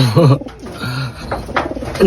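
Pigeons coo nearby in low, throaty warbling calls, several overlapping phrases with some rustling in the background.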